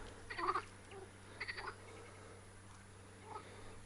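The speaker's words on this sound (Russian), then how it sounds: "А это лягушки, ребят, прикиньте. Вот эти волжанские." Frogs croak on the Volga riverbank in two short bursts of rattling calls, with a fainter call later, over steady low background hum.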